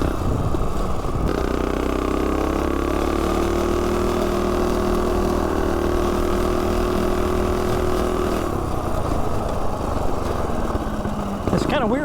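Small single-cylinder engine of a Coleman CT200U-EX mini bike running steadily and loud throughout, with a drawn-out droning tone that rises and holds before easing off near the end; wind noise and no voices.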